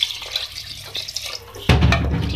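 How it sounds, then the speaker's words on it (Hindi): Water poured from glasses into a pot of fried beef for a beef and potato handi, starting as a faint trickle and then turning into a sudden loud splashing rush with sizzling, up close. "और अब जब भून जाए तो उसमें हम पानी ऐड करेंगे 2 गिलास।"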